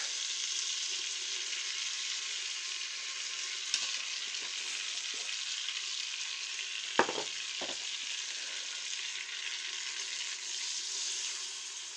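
Butter and flour sizzle in a pan as a roux cooks, a steady, close frying hiss with a few faint utensil scrapes and taps partway through.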